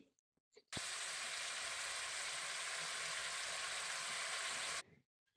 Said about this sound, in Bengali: টমেটোটা দিয়ে ভালো করে একটু কষিয়ে নিচ্ছি